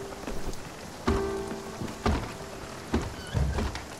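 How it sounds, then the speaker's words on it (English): Steady rain falls in the video game Spiritfarer, a soft continuous patter with a few louder thumps and splashes breaking through at intervals, moderately quiet throughout. "Oh, it's raining."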